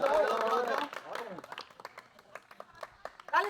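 Onlookers at a blindfolded pot-breaking game in a village clap in an uneven patter after a burst of loud voices, with scattered claps trailing off and quiet chatter underneath.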